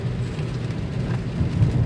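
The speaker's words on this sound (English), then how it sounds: "There's so much rain that the car isn't dirty." Heavy rain pours down around a parked taxi, a dense, steady low rush with a distant rumble of thunder, unbroken and without any voices.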